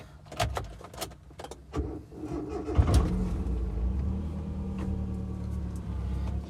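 A noisy car on its way to a mechanic: a steady low engine drone with rattles and a few sharp knocks and clunks near the start, close and fairly loud, with no talking.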